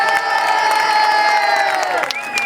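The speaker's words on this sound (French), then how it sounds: "Tonnerre d'applaudissements pour Francis qui vient de Bruxelles." Large street protest crowd in Toulon cheering and shouting loudly, with sustained voices and whoops and some clapping.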